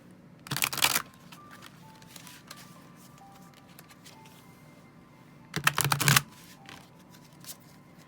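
A deck of oracle cards is shuffled in two short, crisp riffling bursts several seconds apart, close and quiet, with near silence and faint ticking between them.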